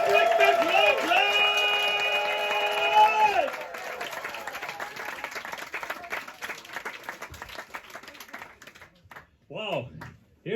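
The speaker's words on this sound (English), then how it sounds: "let's start that round of applause at the back of the room" An audience at a comedy night in the Stag's Head pub breaks into applause and cheering, a dense clatter of clapping that takes over from music at the start, with a voice rising near the end.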